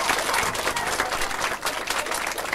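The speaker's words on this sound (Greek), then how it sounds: "Παρακαλώ, κοιτάξτε, ένα χειροκρότημα" A studio audience on a 1992 Greek TV talk show breaks into sustained applause, a dense, even wash of many hands clapping throughout the short stretch.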